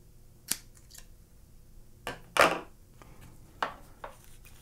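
Scissors snip through 35mm film leader, a crisp cut near the middle among a few lighter clicks and handling noises, close and quiet with no talking.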